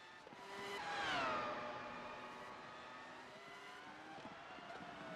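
Nolan Siegel's race car in Zandvoort qualifying swoops past with a loud rising engine whine that peaks near the middle and then fades, with falling pitch and downshift blips as it heads into the chicane.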